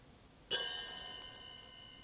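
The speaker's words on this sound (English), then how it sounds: "there's this little chime." A single bright chime struck once in a song mix, adding sparkle to a drum break alongside a cymbal; it rings out with a shimmering, slowly fading tail over a quiet backdrop.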